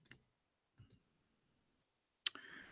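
Computer keyboard clicks, a few isolated keystrokes spaced apart, close and fairly quiet, ending with a sharper click.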